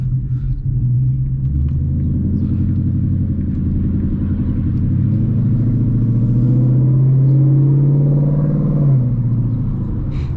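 Ford Mustang GT with a 10-speed transmission heading onto the freeway, its engine giving a steady loud rumble from inside the cabin, with a low droning tone rising gradually as the car accelerates, no talk.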